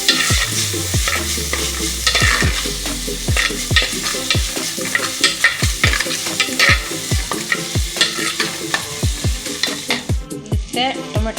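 Tomatoes frying in hot oil for a dry chicken sukka, with loud continuous sizzling and repeated rhythmic scrapes of a spoon stirring in the pan, close up.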